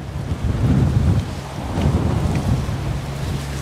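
Wind gusts across an open waterside spot on a breezy fishing day, a steady low rumbling roar with swelling buffets at the microphone, loud and continuous with no voices.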